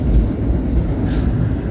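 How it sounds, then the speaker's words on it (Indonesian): A Blambangan Express passenger train arrives at Bekasi station, a loud, dense low rumble and rolling roar of wheels and cars, continuous and close. "Kereta api Blambangan Express telah tiba di stasiun Bekasi."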